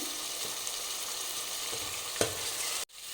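Onion, tomato and ginger-garlic paste sizzle steadily in a pan, close and fairly loud, with a soft stirring scrape near the end before the sound cuts off abruptly.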